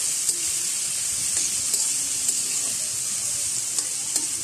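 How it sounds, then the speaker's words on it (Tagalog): A tomato dish sizzles steadily in a pan while it is stirred, with bright frying hiss throughout and small scraping stir sounds, close and fairly loud, with no talk. "Tapos halo-haloin lang natin guys. Halo lang ng halo hanggang mahilo yan."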